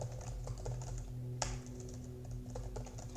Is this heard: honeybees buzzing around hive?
no